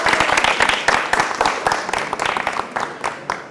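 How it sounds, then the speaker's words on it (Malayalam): A studio audience at a comedy game show breaks into loud, sustained clapping and applause that fills the whole stretch, close and dense without a break. "കൈയടി"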